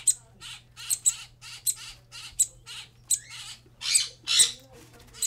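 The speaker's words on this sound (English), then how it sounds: "These are downy woodpecker babies." Downy woodpecker chicks give a series of short, high squeaky calls in quick bursts, close by, over a faint low hum.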